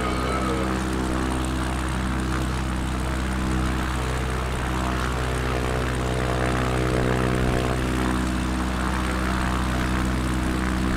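Steady, droning propeller airplane engine from Microsoft Flight Simulator, holding a constant loud hum throughout with no talking.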